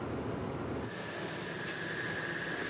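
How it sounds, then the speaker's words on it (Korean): Container freight trains rolling toward the port of Vladivostok, a steady broad rumble of rail cars with a faint high squeal, continuous and moderately close, no voices. "블라디보스톡 항구로 나아가는 컨테이너를 실은 기차들입니다."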